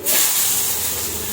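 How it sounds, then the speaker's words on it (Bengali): Chopped onion dropped into a hot pan bursts into a loud, close hiss that sets in at once and holds steady as it sizzles. "প্রথমে দিয়ে দেব পেঁয়াজ কুচি, কিছুটা পরিমাণ পেঁয়াজ কুচি দিয়ে দিই"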